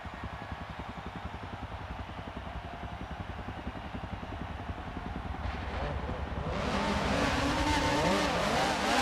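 Volkswagen Beetle race cars at the start of a Fun Cup race: a steady engine drone builds and then swells into loud, overlapping revving as the field accelerates away, filling the clip with no speech.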